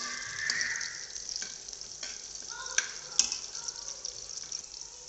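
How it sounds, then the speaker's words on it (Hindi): Cumin, garlic and green chili, with a pinch of asafoetida, fry in a pan: a steady, fairly quiet sizzle with a few small pops and stirring scrapes, and no voices. "ये देखिए डाल दिए है मैंने लहसुन और हरी मिर्च इसको थोड़ा सा सेक लेंगे"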